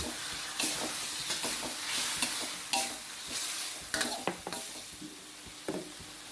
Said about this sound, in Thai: ตามด้วยมะเขือยาวที่เราทอดไว้นะครับ ลงไปเลย